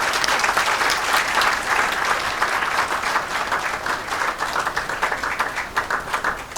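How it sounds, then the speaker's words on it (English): Warm, sustained applause from an audience at a nursing sciences alumni chapter launch at Nairobi Safari Club, steady dense clapping for the old nurses filling the whole stretch without letting up. "Please stand up, nightingales, and give them a wonderful clap."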